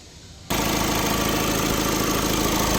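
A stage 2 tuned VW Polo 1.5 TDI diesel engine starts abruptly after a quiet moment, then settles into a steady, loud, rough idle with a constant clattering diesel rhythm.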